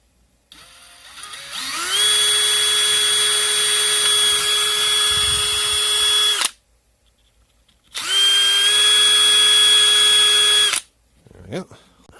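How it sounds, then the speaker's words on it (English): A power drill bores a hole in a Schumacher battery pack, whining at a steady high pitch in two long bursts separated by a brief pause, close and loud, with a short clatter at the end. "we're going to drill a hole so we can line it up"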